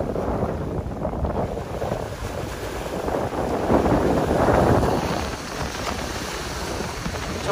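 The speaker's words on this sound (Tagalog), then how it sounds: "talagang naglalakihan na ulit yung alon and sobrang lakas din po ng hangin" Strong waves crash onto a sandy shore while gusty wind buffets the microphone, a loud continuous roar that swells in the middle and then eases slightly, with no voices.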